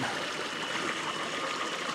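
Water rushes steadily through a specially built gold trap contraption in a stream, making a constant, close, fairly quiet gurgling and trickling flow with no voices.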